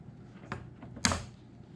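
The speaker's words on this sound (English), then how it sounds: "I could probably cut these off right here with these scissors" Two quiet, short snips of scissors cutting wires on a cordless drill charger, a half second apart, the second sharper and louder, each a crisp cut against a faint background.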